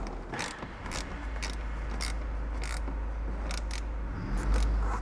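Screws being driven into a front car door speaker mounting, with a washer added under an undersized screw head; close mechanical ratcheting clicks and creaks repeat in short bursts over a steady low hum.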